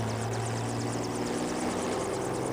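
A helicopter carrying Santa flies over downtown Manson, its rotor chopping in a steady, fairly distant drone with continuous engine rumble and no talk.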